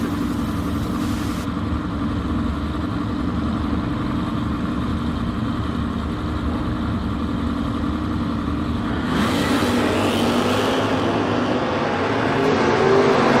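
Oldsmobile and Buick drag racing cars roar steadily at a drag strip, a loud continuous engine drone heard from a distance, with a rising burst of noise partway through.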